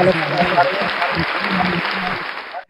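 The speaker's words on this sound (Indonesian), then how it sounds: "Kasih tepuk tangan dulu dong." Clapping from an audience at a youth book talkshow, loud and close, runs under a talking voice and a murmuring crowd and cuts off sharply at the end.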